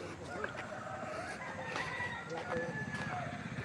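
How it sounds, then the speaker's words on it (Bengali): Free-roaming domestic chickens on a quiet, open Sundarbans island cluck and call close by, with a rooster's drawn-out crow among them and a voice talking throughout. "এই যে মুরগিগুলো সব কিন্তু বাড়ির মুরগি, কোনো বন্য মুরগি না কিন্তু এগুলো"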